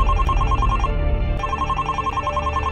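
Telephone ringing in repeated electronic trilling bursts, loud and near, with a short pause between rings over a low background hum, no one speaking.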